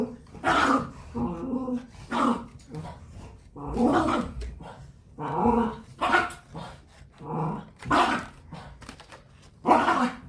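A dog growls and barks repeatedly, loud and close, in rough bursts with short pauses between them.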